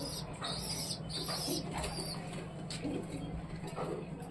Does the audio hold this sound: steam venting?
no